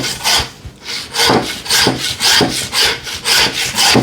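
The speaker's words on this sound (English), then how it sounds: "You'll hear when you're through the bone. Just the tone of the saw changes." A butcher's hand saw rasps back and forth through lamb bone in steady rhythmic strokes, about eight loud, close, scratchy passes with no talking.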